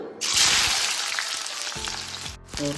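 Hot oil in a kadai on a gas stove hisses in a loud, close, steady sizzle for a few seconds as spices or ingredients are dropped in, with a few clattering stirs and no talk.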